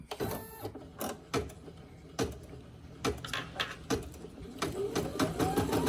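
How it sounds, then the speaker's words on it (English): A home embroidery machine stitches an in-the-hoop Halloween lollipop holder design, giving a close, rapid mechanical clatter of needle strikes in uneven bursts with a whirring motor underneath. "we're just going to go ahead and put the presser foot down and click start"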